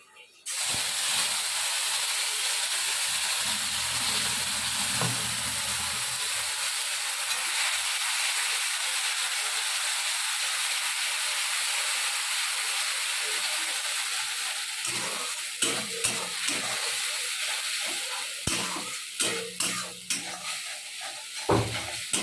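Masala frying in hot oil for an Odisha-style egg potato gravy, a loud continuous hiss and sizzle that gradually settles, followed by intermittent stirring scrapes near the end.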